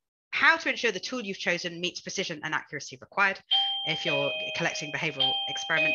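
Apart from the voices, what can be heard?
doorbell ringing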